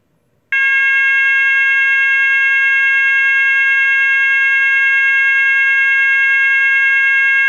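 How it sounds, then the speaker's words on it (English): An E2S A100DC24R alarm sounder produces a 554 Hz continuous tone. After half a second of silence, a loud, piercing, perfectly steady electronic tone begins and holds unbroken to the end. "Next is 554 hertz continuous."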